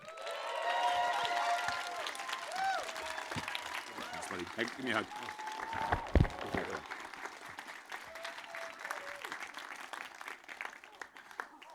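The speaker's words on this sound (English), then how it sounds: "I want you to give him the biggest round of applause" A conference crowd applauds to welcome a speaker onto the stage, steady clapping that fades over several seconds. Someone talks over it near the middle and a brief cheer rises, then the clapping thins out.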